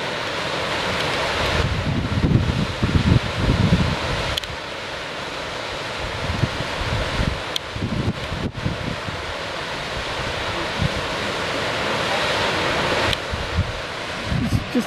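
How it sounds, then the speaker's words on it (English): A waterfall beside a reservoir campsite gives a steady broadband rush that fills the whole clip, with gusts of wind buffeting the microphone now and then and no voices. "A nice waterfall."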